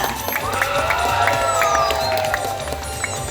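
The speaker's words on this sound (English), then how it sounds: "please big applause for our participant from Australia" A crowd at an animal show in a Bali marine safari park applauds and cheers, with scattered claps, whoops and whistles over steady crowd murmur at moderate loudness.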